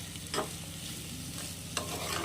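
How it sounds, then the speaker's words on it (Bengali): Spices sautéing with pointed gourd in a pan for a Bengali potol chingri dish, a soft continuous sizzle with a couple of stirring scrapes, close and fairly quiet. "এইভাবে যদি আরও দু মিনিট কষিয়ে নেওয়া যায় তাহলে কিন্তু মশলাগুলো সবজির মধ্যে চলে যায় বেশ সুন্দরভাবে"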